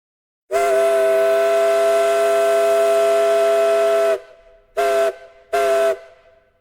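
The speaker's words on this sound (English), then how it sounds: "The captain saluted us with a blast of his steam whistle." A paddle wheeler steamboat's steam whistle sounds one long, loud, harmonic blast of about three and a half seconds. Two short, equally loud toots follow after brief gaps, with no voices.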